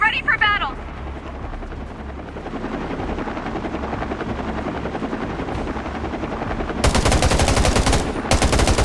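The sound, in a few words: enemy helicopters in the video game Undawn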